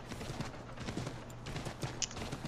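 Horse hooves clip-clop at a steady trot on city streets in Assassin's Creed 3, a continuous rhythmic patter under a dense game soundscape, with no voices.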